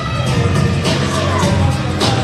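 A wrestling show crowd cheering and shouting at a pre-show event, a dense, steady roar of many voices throughout.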